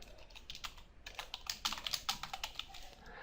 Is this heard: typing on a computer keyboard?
yes